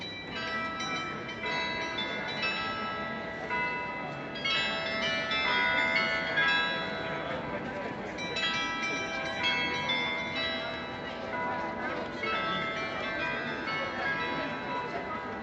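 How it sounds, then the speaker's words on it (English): Church tower bells in Gdansk, Poland, play a continuous melody, overlapping tones sustained and resonant, heard steadily for the whole stretch with faint background noise. "Here is a little snippet of the bells."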